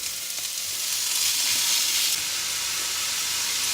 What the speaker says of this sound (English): And now I'm going to add in my 250 grams of lean beef.